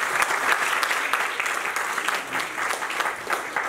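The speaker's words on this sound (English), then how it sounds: "I think they do deserve another round of applause." At a university tourism and hospitality school celebration, an audience gives another round of applause, a full, steady stretch of clapping heard alone without speech.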